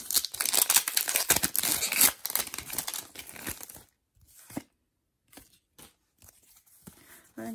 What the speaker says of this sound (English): I honestly think these packs get harder and harder to open sometimes